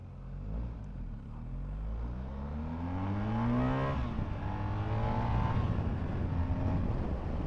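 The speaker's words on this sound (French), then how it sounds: "le moteur, il est beaucoup plus pétillant" A BMW GS 1200 or 1250 motorcycle engine revs up under acceleration, its pitch climbing steadily and then settling into a louder, rougher drone mixed with wind noise.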